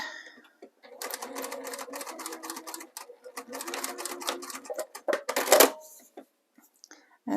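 A sewing machine runs in a rapid, steady rattle of stitches while sewing a chocolate-themed zipper pouch, pausing briefly mid-run, then stopping with a few clicks.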